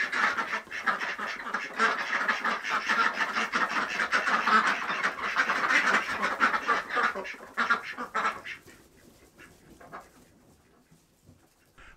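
Ducks quack in a busy, overlapping chorus inside a farm duck house, loud and close for several seconds before the calls thin out and fade to near quiet.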